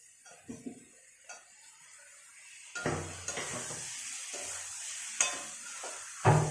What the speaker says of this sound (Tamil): மஷ்ரூம் நல்லா வதங்கி இதுலேருந்து நல்லா எண்ணெய் பிரிஞ்சு வரணும்